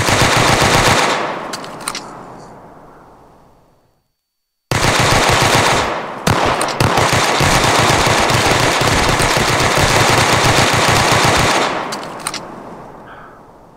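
Rapid machine-gun bursts from the video game Escape From Castle Nierenstein, loud and dense almost throughout, broken by a near-silent gap around four seconds, then sustained automatic fire until a brief fade near the end.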